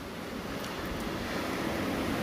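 Surf breaking at a beach along the South Korean east coast between Samcheok and Uljin, a steady broadband wash of waves mixed with wind rush on the microphone, continuous and moderately quiet with no talking.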